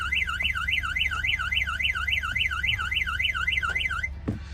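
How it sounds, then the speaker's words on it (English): A dump truck's anti-tamper alarm wails in a rapid rising-and-falling siren pattern, loud and close over a low engine hum, then cuts off abruptly. "Your alarm is sounding on your vehicle."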